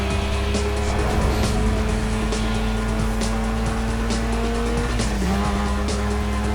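A race car in Need For Speed Most Wanted (2005) accelerates hard and corners, engine droning at high revs with a rising pitch, tires squealing and skidding through the turn, loud and steady throughout.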